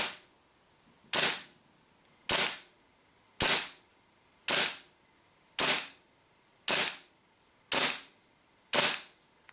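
WE P38 gas blowback airsoft pistol fired without its barrel extension: eight sharp, evenly spaced shots about a second apart, each a loud crisp pop with a short decay, no talking.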